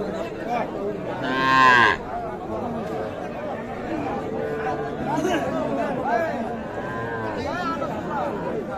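A cow moos loudly once amid busy crowd chatter and talking at an outdoor cattle market in Ambari, Bangladesh, where young bulls and heifer calves are sold, with other animal calls fainter in the background.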